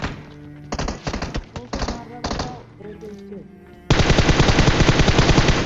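Automatic gunfire in the PUBG battle game: a few scattered shots and bursts with a voice underneath, then a sustained loud rapid-fire stream of close shots.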